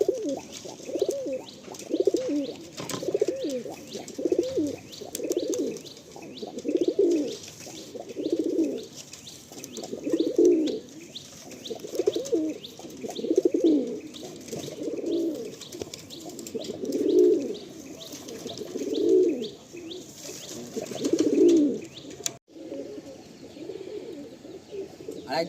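Pigeons in a loft cooing in a steady, repeated rhythm, close and fairly loud, with faint chirps and a brief flutter of wings in the background.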